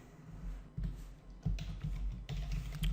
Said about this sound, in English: now we type